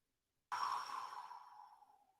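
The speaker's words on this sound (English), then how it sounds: "Breathing in the nose." A single slow, deep breath drawn in through the nose during a guided morning meditation, starting abruptly and fading gradually over about a second and a half, close and quiet against silence.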